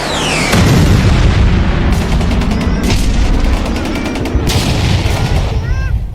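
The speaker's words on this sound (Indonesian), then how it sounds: "serangan bom dan rudal menghantam desa kecil itu." Sound effect of bombs and missiles striking a small village, a dense, loud roar of explosions and booms with rumbling low end and bursts of rapid gunfire layered over it, continuous throughout.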